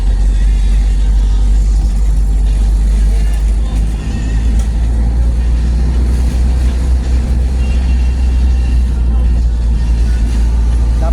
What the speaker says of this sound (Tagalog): Ito kalsada to, mga sasakyan.